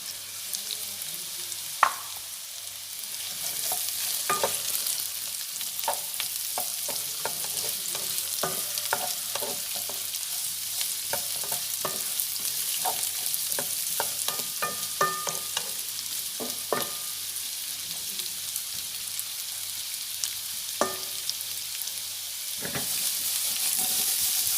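Carrots stir-fried in a pan, a steady sizzle running throughout with repeated scraping clicks of a utensil stirring and tossing the pieces, close and fairly loud.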